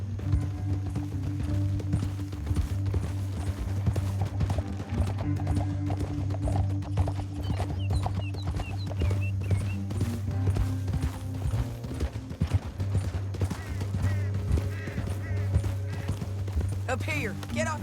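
Horse hooves clip-clop steadily in Red Dead Redemption 2 over a low droning music bed, with scattered mechanical clinks and a brief lull midway.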